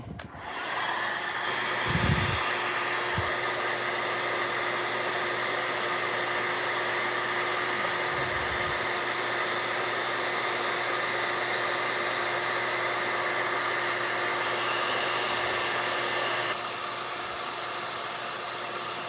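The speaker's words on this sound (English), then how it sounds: "Now the heat gun." A heat gun shrinking heat-shrink tubing onto bullet connectors during a battery pack repair, a loud steady blowing whine that runs almost unbroken for the whole stretch, with a few low knocks near the start.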